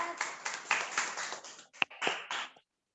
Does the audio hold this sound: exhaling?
no